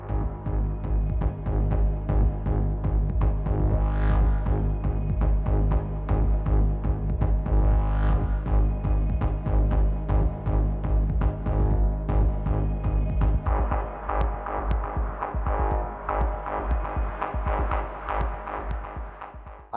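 Electronic song, heard as a loud, dense track with a steady throbbing low-end pulse and sustained synth layers, growing busier and brighter in the final third.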